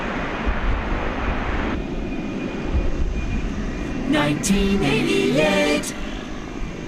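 A 37-year-old Martin Air Cessna Super Cargomaster propeller aircraft drones steadily at DFW Airport at night, a constant engine rumble that swells slightly midway, with brief talk over it.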